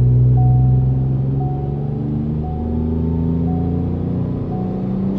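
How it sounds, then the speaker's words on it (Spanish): A 2018 Ford Fiesta ST engine revving steadily toward the rev limiter on a dynamometer, a loud sustained drone with rising harmonic tones, close and alone without talk. "Subimos de revoluciones hasta que llegue al corte"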